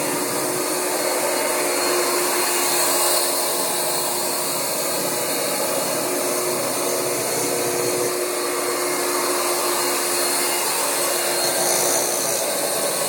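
A Rug Doctor X-3 carpet cleaner's vacuum runs continuously, a loud, steady, close whooshing roar with a faint underlying whine and no breaks.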